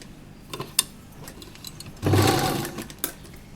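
A sewing machine stitches along the edge of a kurta in short bursts, a few faint clicks followed by a louder whirring run of about a second, then a final tap.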